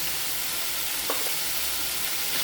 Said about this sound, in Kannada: ಇದೆಲ್ಲ ಒಂಚೂರು ಫ್ರೈ ಆಗಬೇಕು.